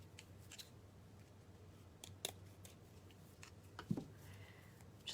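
Scissors snipping the ends off a paper piece for a reindeer door hanger craft, a few quiet, brief cuts spread out with pauses between them.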